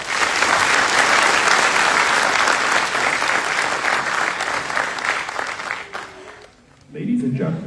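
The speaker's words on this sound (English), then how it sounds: "Please join me in a round of applause for the Commandant's list." Audience at a drill sergeant graduation ceremony at Fort Benning, Georgia, breaks into sustained, dense applause that fills the hall for several seconds before fading out, with a brief murmur of voices afterward.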